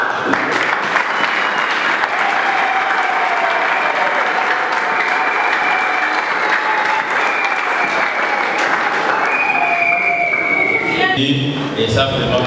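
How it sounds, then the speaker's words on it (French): Sustained audience applause fills the hall steadily for the whole stretch, dense and loud, with a voice talking over it and a change in tone near the end. "ça vraiment nous devons vous applaudir"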